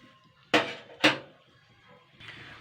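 A spoon stirs sona pata leaves boiling in a pot, knocking the metal sides with two sharp, close clanks half a second apart, then a softer scrape a moment later.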